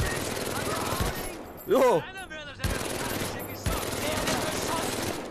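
Bursts of rapid virtual gunfire in the VR shooter Medal of Honor, rattling close and loud in several volleys, broken by a short exclamation from a player.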